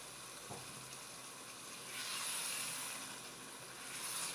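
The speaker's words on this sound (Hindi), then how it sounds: "अब हम इसमें 1 कप पानी ऐड करेंगे" Steady sizzling hiss from a hot pan of frying potatoes that swells midway as a cup of water hits it, then settles back to a bubbling simmer.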